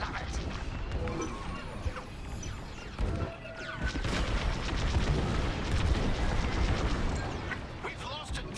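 Loud explosions and crashing booms from a dish being destroyed in Star Wars Squadrons, a sustained barrage of blasts and impacts with a brief lull near the middle, with speech faintly present in the mix.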